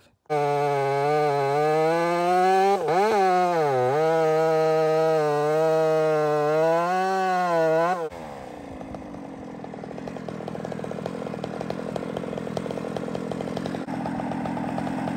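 A Husqvarna 572 chainsaw fitted with a new muffler screams at high, steady revs for several seconds with a brief dip. It then drops away and is followed by a rougher, lower running sound, loud and close.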